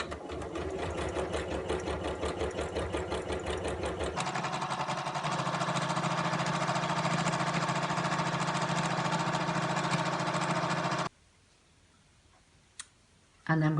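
Domestic sewing machine stitching a quarter-inch seam through two layers of fabric, a fast rattling motor run in two bursts with a change in pace midway, then stopping into near silence with a faint click.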